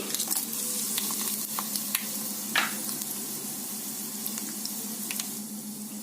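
Urad dal and dried red chillies frying in hot oil, a steady close sizzle with occasional crackles and pops, heard alone without talk.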